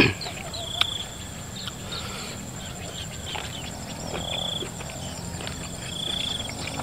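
Crickets chirp in a steady night ambience, with faint high trills and scattered insect calls, a few sharper chirps standing out, soft and distant over low background hiss.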